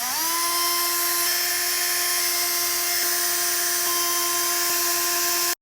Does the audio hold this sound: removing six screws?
yes